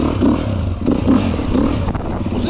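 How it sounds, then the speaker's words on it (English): A Beta 390 RS dirt bike pulls away on a trail ride, its engine revving loud and close with clattering and scraping mixed in, pitch rising in short bursts. "Let's go for a little rip."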